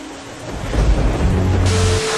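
Steady heavy rain hisses throughout, with a low rumble of thunder swelling in the middle, loud and close with no voices.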